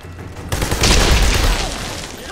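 A frag grenade going off in Army of Two: The Devil's Cartel, a sudden close boom after a brief quieter lead-in, then a rumbling wash of debris and noise that slowly tapers.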